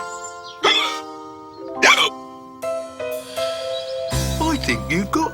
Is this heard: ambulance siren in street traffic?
no